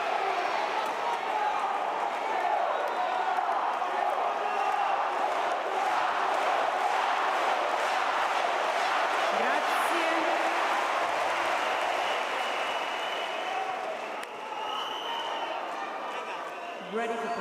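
Dense, steady roar of a tennis crowd cheering and clapping continuously at a Cobolli versus Munar final set in the Italy v Spain tie, loud and sustained, with voices shouting amid the din before it eases slightly near the end.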